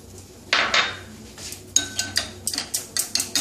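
Two eggs with a pinch of salt are beaten with a utensil for a spicy masala egg pasta: a few loose clinks at first, then a quick, even run of sharp taps against the bowl, close and clear.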